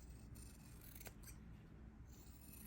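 Scissors snip through quilted fabric and batting to trim a carrot tip, giving a few quiet, close crisp cuts over a low hum, with no talking.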